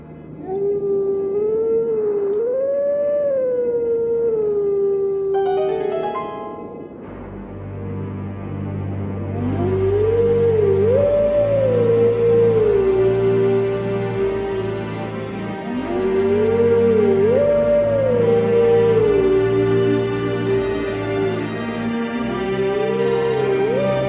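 A wolf in the Twilight Princess video game howls a tune, rising and falling melodic calls repeated over a sustained musical backing, loud and continuous.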